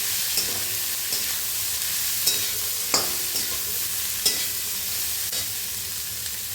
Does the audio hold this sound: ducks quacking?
no